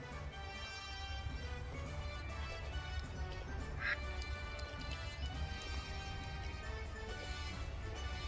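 Duck quacking at a wildlife enclosure in Abtswind, a brief call near the middle set against a steady, busy background of other birds and outdoor noise.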